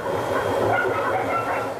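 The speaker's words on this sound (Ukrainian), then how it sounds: "Здалеку цей гуркіт схожий на звук вантажного потяга." Distant rumble from a granite quarry working at night near a village, resembling a freight train, a steady continuous roar held at even loudness throughout.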